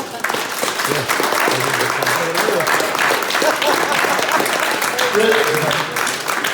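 Wedding guests applaud the venue staff, a loud sustained burst of clapping from a room full of people with scattered voices mixed in.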